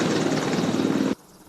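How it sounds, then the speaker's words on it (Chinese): An Apache attack helicopter flies over a university campus sports field in Taichung, its dense, steady rotor and engine roar filling the clip at close range before cutting off abruptly near the end. "运动场飞机头粉阿帕奇攻击直升机飞到台中的逢甲大学校园"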